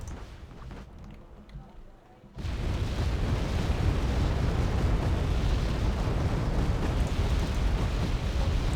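Rocket explosions in the video game Wargame: Red Dragon: after a quieter stretch, a sudden loud blast gives way to a dense, sustained roar of detonations and rumbling fire that continues steadily to the end.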